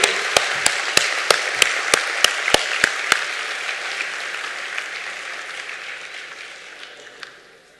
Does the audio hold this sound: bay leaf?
no